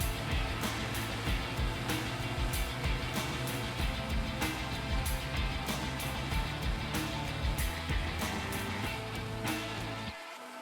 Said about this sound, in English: I head back over to the planer and I start milling down the tops to their final thickness.